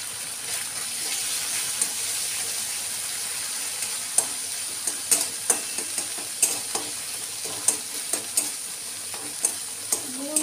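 Ground coriander, turmeric and red chilli powder stirred and fried in a pan with pointed parasol gourd, a steady sizzle under repeated spoon scrapes and clinks against the metal, with no voices.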